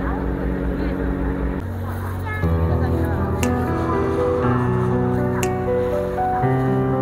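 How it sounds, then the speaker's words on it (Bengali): Ferry boat taking passengers across to Nami Island, South Korea, its engine a steady low drone and rumble that shifts pitch partway through, with faint splashing and background activity; no talk. "এইখানে আরেকটি জাহাজ অপেক্ষা করছে, যেটি যাত্রী ওই পারে নিয়ে যাওয়ার জন্য অপেক্ষা করছে।"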